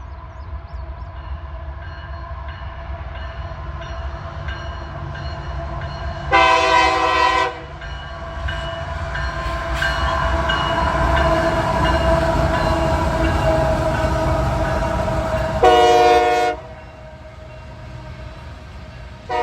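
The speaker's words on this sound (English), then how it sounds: "we got a loaded coal train coming down" Loaded coal train rolling past: a loud steady rumble and rail noise throughout, with two long, strong horn blasts, one early and one near the end.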